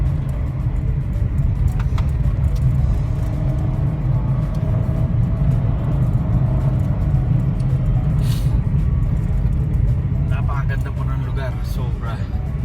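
Suzuki S-Presso driving on a rough mountain road, with steady engine rumble and road noise heard from inside the cabin throughout, and people talking over it.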